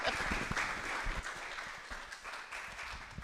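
An audience at a university storytelling event gives a round of applause for a reader. The clapping is dense and steady throughout, with voices mixed in.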